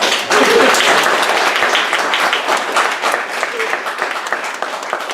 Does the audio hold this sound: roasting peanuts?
no